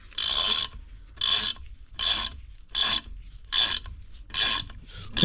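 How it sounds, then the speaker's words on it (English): A small ratchet wrench clicks in seven regular, close bursts as it screws down a valve spring compressor on a JDM Honda B18C Type R engine under rebuild, with short pauses between the strokes. "gonna get a little wrench, put it on the back of here"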